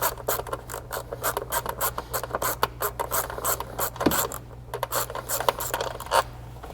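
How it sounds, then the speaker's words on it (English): Ratchet with a 10 mm socket on an extension loosens nuts on a Ford F150, giving a rapid series of close clicking, rasping strokes in short bursts. "We've got that same 10 millimeter socket from our battery that we loosened, and we just put an extension so we can reach."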